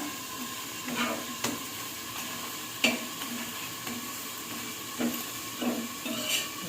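A paratha fries in ghee with a steady soft sizzle, broken by occasional light scraping taps from a turner or spatula against the pan, close and moderately quiet.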